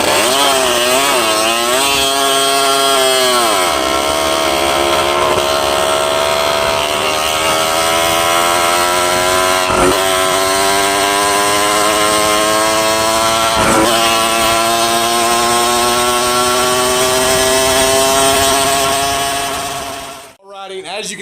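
A motorcycle with a USA-made Barba Racing CNC engine revs and accelerates on a ride, its loud, buzzy engine note climbing steadily in pitch through the gears for about twenty seconds before cutting off abruptly.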